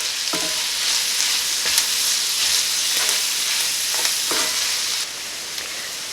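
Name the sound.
onions and celery sautéing in pan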